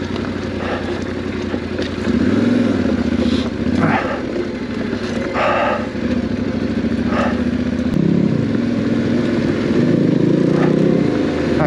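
A heavy Yamaha T7 World Raid adventure motorcycle engine chugs and revs unevenly riding downhill off-road over rough ground, with rattling clatter and occasional bumps, the engine note rising and dropping repeatedly.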